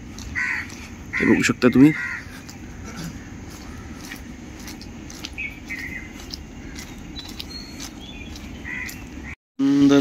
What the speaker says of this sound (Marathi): कावळ्याचा आवाज आहे